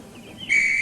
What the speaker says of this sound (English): The guard blew his whistle, and Percy started quickly in hopes to get a